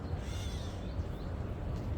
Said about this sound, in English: I do not know what the bird's called.